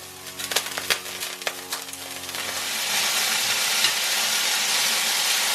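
Kidneys dropped into a hot pan beside steak, a few crackling pops on contact giving way to a steady, loud sizzle and hiss.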